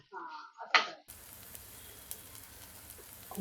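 Vegetables for a no-onion, no-garlic Bhogi fasting curry sizzling steadily in hot oil, a soft continuous crackle after a few brief clatters and a short voice at the start.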